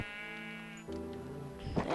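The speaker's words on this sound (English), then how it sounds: "Swords are really good for slicing at mobs, like these sheep over here." Sheep bleating in the video game Minecraft, a couple of harmonic bleats close by, the second louder and rougher toward the end, alone with no talk.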